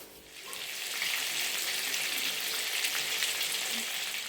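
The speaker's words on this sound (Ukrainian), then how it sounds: "Зробила фаршик тут на сковорідку котлеток" A steady, loud sizzle of minced-meat patties frying in a pan, with a continuous hiss and no talking.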